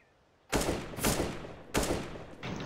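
Gunfire in CS:GO Wingman on the Lake map: three or four sharp, loud shots at irregular intervals, each followed by a short ringing tail, after a brief quiet start.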